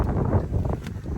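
Wind gusts outdoors in the woods, a steady rough rumble buffeting the microphone up close with no voices.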